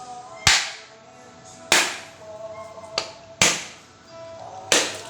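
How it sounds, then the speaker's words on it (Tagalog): Coconut struck with the back of a bolo knife, five sharp cracking whacks at roughly one-second intervals, each ringing briefly, close and alone. "Tapos yung pinakakutsilyo or itak mo, dito mo siya tatamaan patalikod, hindi yung pataga."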